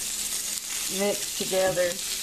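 Flour-dusted rabbit pieces sear in a hot pan for a rabbit and rutabaga stew, giving a steady close sizzle with a brief voice speaking over it.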